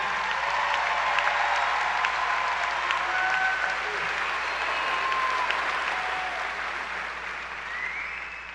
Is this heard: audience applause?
yes